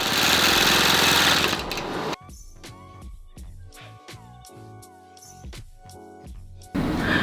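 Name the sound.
longarm quilting machine stitching a quilt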